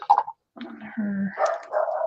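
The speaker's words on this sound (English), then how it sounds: "There's some barking action going on there." A dog barks in a few short, close bursts broken by a brief silence, with soft whines or yips mixed in and no talking over it.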